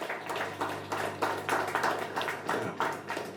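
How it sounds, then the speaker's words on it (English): A round of applause from attendees at an environmental impact assessment technical review meeting, with steady overlapping claps of moderate loudness repeating in pulses against a faint low hum. "I think they deserve a round of applause."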